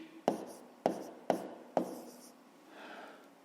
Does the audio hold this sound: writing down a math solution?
yes